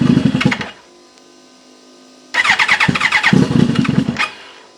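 A cold-blooded engine cranks and catches in two attempts: a burst of rapid firing pulses dies away to quiet, then a second longer run of loud, choppy firing near the mic before it fades again.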